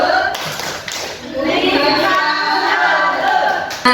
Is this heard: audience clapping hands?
yes